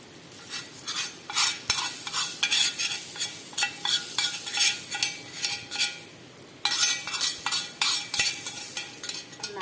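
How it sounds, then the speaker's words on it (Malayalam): Curry stirred and mixed in a hot iron pan, with a continuous rhythmic scraping of a spoon and a steady sizzle, loud and close with no talking. "നന്നായി ഇളക്കി യോജിപ്പിക്കും"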